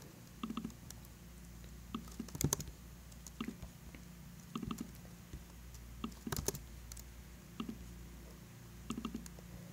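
Typing on a computer keyboard, quiet irregular clusters of key clicks separated by short pauses, close and faint with no talking.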